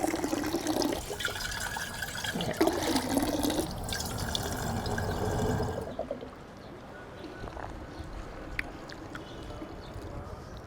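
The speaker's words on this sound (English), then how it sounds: "Drinking water from a public tap like this." Water runs from a public drinking tap in Italy, a steady splashing stream close by that grows softer and thinner partway through, leaving quieter trickling and faint drips.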